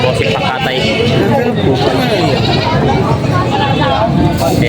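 Goats bleat repeatedly at a crowded livestock market in Padre Garcia, Batangas, their calls mixing with loud, constant crowd chatter and bargaining voices close by.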